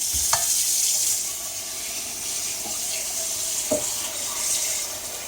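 Continuous rushing water with a hissing, splashing texture as water streams into a cooking pot while making paella, plus a few faint clinks.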